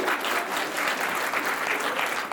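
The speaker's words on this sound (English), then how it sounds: "Let's give him a round of applause." Audience applause in an indoor political party meeting as a moderator is introduced: a dense, steady wash of many hands clapping, fairly close and continuous, with no speech over it.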